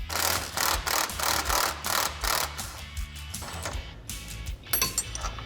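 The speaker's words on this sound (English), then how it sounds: "So now we're gonna remove the rearmost differential mounting bolt towards the machine." A wrench ratchets on a 19mm nut of the rear differential mounting bolt on a Polaris RZR Pro XP, repeated close rhythmic clicking bursts, then quieter metallic handling and a few clinks.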